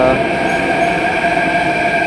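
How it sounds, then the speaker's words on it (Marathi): Metro train at a station platform, a steady, loud rumble and hum running continuously without a break. "मेट्रो स्टेशनला इथे आलो आहे"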